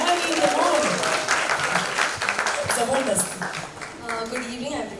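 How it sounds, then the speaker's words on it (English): Audience applause at a Liva Miss Diva 2020 launch event, a sustained wash of clapping mixed with a speaker's voice talking over it near the microphone. "You can clap for me also, yeah?"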